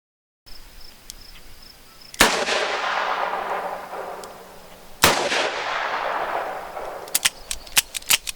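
Revolver shots from a 2-inch Chiappa Rhino and a 6-inch Smith & Wesson outdoors, two loud sharp reports about three seconds apart, each ringing out with a long echoing decay, then a quick cluster of lighter clicks and taps.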